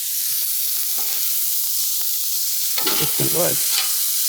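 Frozen peas and carrots sizzle on a Blackstone griddle, a steady frying hiss with spatula scrapes and stirring clatter near the end; someone speaks briefly.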